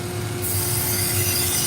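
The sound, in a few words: knife sharpening on a 200 grit 3M Trizact belt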